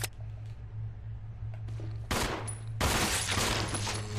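Video game gunfire in Resident Evil 0, a dense burst of rapid shots starting midway and running to the end, loud over a low steady game hum, with no talking.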